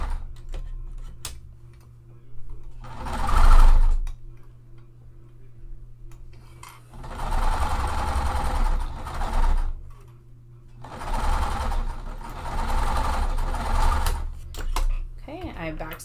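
Three separate runs of a sewing machine stitching and backstitching a puff quilt pillow, each a steady whir lasting a few seconds, with quiet pauses and small handling clicks between runs.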